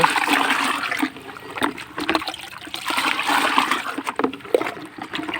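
Water is swished and mixed by hand in a container while preparing a Ranikhet vaccine solution for 500 broiler chickens, with loud irregular sloshing and splashing surges close by, no talk.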